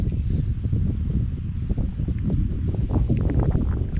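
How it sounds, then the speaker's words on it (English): A steady northwest wind buffets the microphone outdoors near a swamp with rocking trees, giving a continuous rumbling, gusty roar with no talking. "we got a northwest wind, fairly steady"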